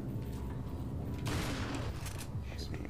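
Gunfire in the video game Resident Evil 4: a loud burst of shooting rises suddenly amid a continuous low rumble, with rapid crackling reports trailing off over a few seconds.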